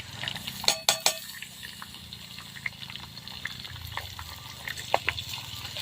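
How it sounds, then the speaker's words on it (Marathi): Onion frying in oil with cumin and garlic in a home kitchen, giving a low, steady sizzle. A few sharp clinks of a utensil against the pan come early, with lighter scrapes and taps later on. "कांदा छान असा लालसर रंग येईपर्यंत तळून घ्यायचं आहे तेलामध्ये"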